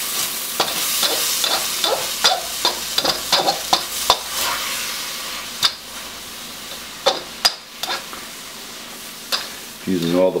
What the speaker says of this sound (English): We'll stir this around.